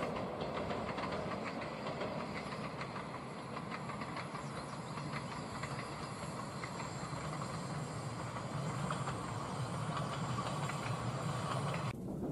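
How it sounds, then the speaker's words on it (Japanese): The Yakumo limited express rushes through a mountain valley with a steady loud roar of wheels and rails, faint clickety-clack and hiss running continuously without a break. "自然の中に響く駆け抜ける音とともに、この山あいを通過するわけですが"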